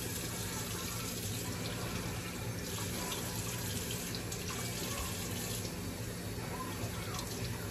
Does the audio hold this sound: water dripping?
yes